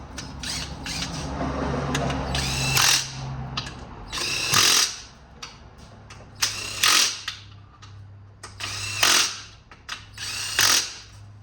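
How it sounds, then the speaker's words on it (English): An impact wrench driving transmission pan bolts on a Chevrolet Equinox with a 6T40/6T45 gearbox. It sounds close and loud, with several separate rattling bursts of a second or so each and short gaps between them. "driving this with this impact"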